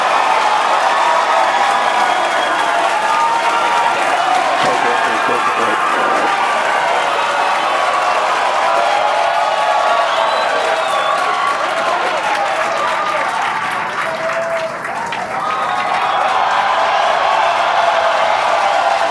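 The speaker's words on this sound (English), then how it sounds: "Cheering" A large crowd at the SpaceX Starbase launch site in Texas claps and cheers in a dense, continuous roar that stays loud throughout, with faint voices mixed into the din.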